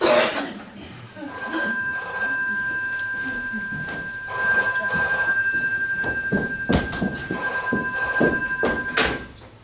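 An old-style telephone bell rings at a guest house, sounding in three separate double bursts of bright metallic ringing, with people talking in between.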